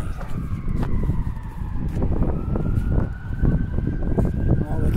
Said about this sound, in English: I hear a lot of sirens over something.